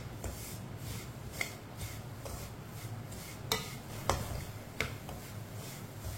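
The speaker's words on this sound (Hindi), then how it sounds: "इसे चम्मच चलाते हुए पकाना है, चम्मच छोड़ना नहीं है" A metal spoon scrapes and taps against a pan while stirring semolina (suji) in oil for halwa, a series of irregular light clicks and scrapes, close and fairly quiet over a low steady hiss.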